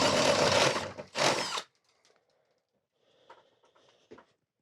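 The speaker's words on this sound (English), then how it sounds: "But same principle, step bits, and then we'll just jigsaw the hole right out of there." A step bit cuts through a metal ceiling vent in two loud, close bursts of drilling, then quieter scattered clicks and light scraping follow.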